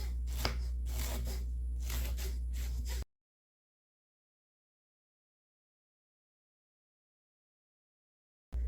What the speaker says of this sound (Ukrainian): Спершу наріжу капусту та зелень.